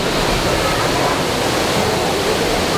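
A loud waterfall roars from inside the cave behind the falling water at a bird park, a dense continuous rush of white noise filling the whole moment with no break.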